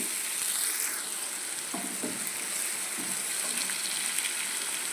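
Onions fry in oil in a pan with a soft, even hiss, marked by a few faint taps and stirs, moderately quiet and close, with no voices.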